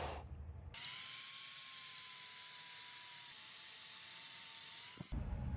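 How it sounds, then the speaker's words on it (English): A small power sander widening a hole in a shotgun stock, a thin steady high-pitched whine running for about four seconds at a constant pitch, quiet overall, starting and stopping sharply. "we're using this little sander, and I'm basically going to get in there and widen this thing down"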